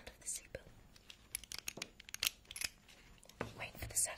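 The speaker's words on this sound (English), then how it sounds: "Here's the sound of the seatbelt." A vintage-style 1960s seatbelt prop is handled and buckled close up, giving a quiet, scattered run of metallic clicks, rustles and clacks.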